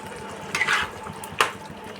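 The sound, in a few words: fried potatoes added to simmering curry, stirring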